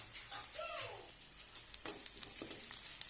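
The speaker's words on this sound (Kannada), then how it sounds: "ಒಂದು ಟೊಮೊಟೊನೂ ಹಾಕಿ ಫ್ರೈ ಮಾಡ್ತಾ ಇದ್ದೀನಿ" Faint sizzle of onion and tomato frying in a pan for a chicken sambar, with intermittent scraping and stirring clicks, quiet and close.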